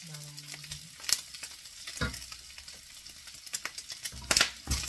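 Garlic fries in a pan for pinakbet, with crackling sizzle and a few sharp stirring scrapes and clatters, close and moderately loud.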